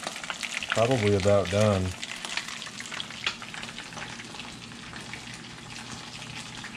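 Beer-battered bluegill deep frying in hot oil, a steady crackling sizzle running throughout, with a voice talking briefly near the start.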